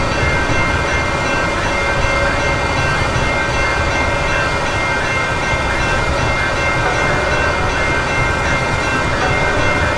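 A six-coach passenger train runs in a Southern California rail simulator game, giving a steady, loud rumble of wheels on track that holds even throughout, with faint tonal hum above it and no voices.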